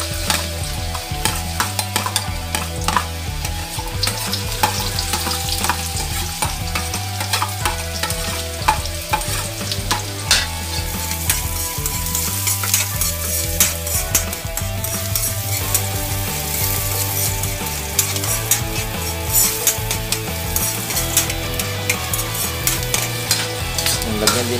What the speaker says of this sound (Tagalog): una natin igigisa yung bawang sibuyas